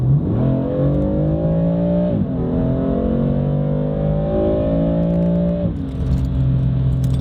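A car with a Guerrilla bypass exhaust revs up in long rising pulls, dropping briefly between gears, with a deep rumbling exhaust tone throughout and no talking.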